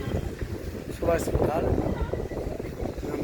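Wind gusting through a park in Tirupati, buffeting the microphone with low, rumbling rushes that swell in the middle, while someone talks over it.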